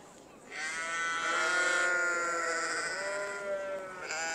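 Valais Blacknose sheep bleating at a show judging on a busy showground, a long drawn-out harmonic bleat close by, followed after a short gap by another cry starting at the end.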